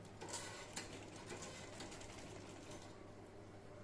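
A sewing machine stitches a blouse lining in a short, faint whirring run close by, with pigeons cooing softly in the background and no talking.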